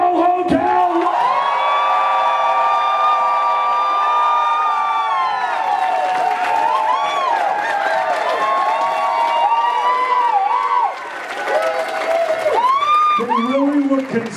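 A large crowd at a furry convention closing ceremony cheers and whoops loudly, with sustained shouts and yells layered over applause, dipping briefly near the end before surging again.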